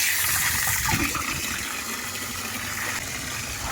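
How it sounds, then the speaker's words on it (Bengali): Tap water gushes into a container at home, a loud splashing rush that eases after the first second into a steadier, slightly softer flow. "বাবা, জল ভর্তি হয়ে গেছে"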